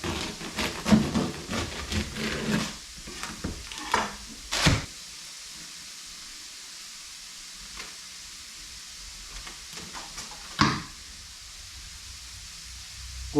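Vegetables sautéing gently in butter in a pan over low heat, a soft steady sizzle punctuated by a few louder stirring clatters and bumps, with quiet gaps between.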